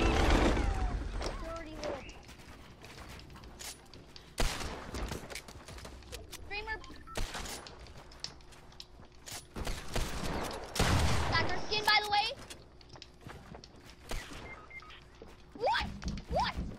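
Video game gunfire, including shotgun and Desert Eagle shots, rings out in a busy Fortnite-style match as repeated loud bursts and scattered single shots, while a player talks over much of the action.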